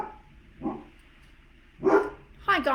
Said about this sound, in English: as soon as I go live, the dogs start to bark.